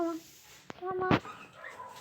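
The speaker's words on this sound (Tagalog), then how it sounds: "may aso." A dog in Minecraft gives a few short, high whines and yips close by, separated by gaps, and a person says a word between them.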